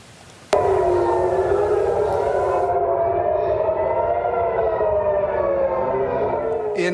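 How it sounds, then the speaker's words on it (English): Air raid sirens wail across Haifa, Israel, warning of incoming Iranian missiles; a loud, steady rising-and-falling civil defense tone starts abruptly and holds continuously without talk. "In Israel, air sirens are sounding in Haifa, warning of Iranian missiles"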